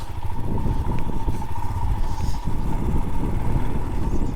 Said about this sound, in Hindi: आराम से निकालनी पड़ेगी यहाँ से बाइक अपनी आर्या।